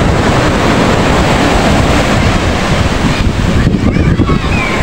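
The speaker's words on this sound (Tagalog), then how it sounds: "Lakas pa rin yung alon mga ka-Junini oh." Loud, continuous roar of ocean surf with wind buffeting the microphone, waves rushing in steadily without pause.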